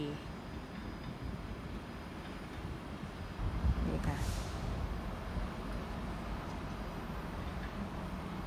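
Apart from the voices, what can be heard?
SBB train to Zurich at St. Gallen station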